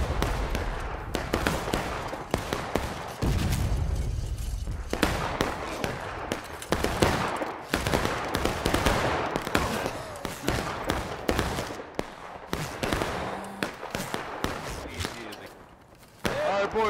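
Video game battle gunfire: scattered shots and bursts crack at varying distances over about seventeen seconds, with a deeper boom early on and a voice speaking briefly among the shots.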